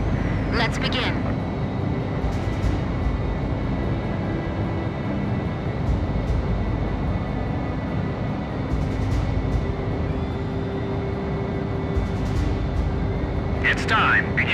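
Fighter jet engine roar from Ace Combat 5 during a ceremonial formation flight, a steady loud drone throughout with brief radio voice bursts near the start and end.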